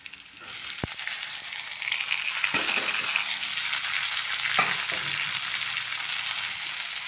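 Onions dropped into hot oil with frying green chillies set off a loud, steady sizzle that swells after a brief tap and clatter, then holds with a few stirring scrapes and no talk.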